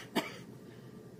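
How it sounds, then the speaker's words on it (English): A single short cough, sharp and close, followed by quiet. "Now I want you to cough in your armpit."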